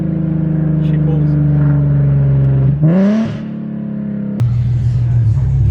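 A cammed Infiniti G37 sedan with a DE engine revs hard on a dyno, its loud, rising engine note climbing through a sustained pull before a sharp drop and a settle back to a rougher idle-like drone.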